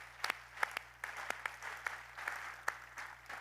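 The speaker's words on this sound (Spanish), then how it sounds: "Un aplauso" Light, scattered applause from a small crowd, its individual claps clearly audible, heard faintly at a distance for a few seconds.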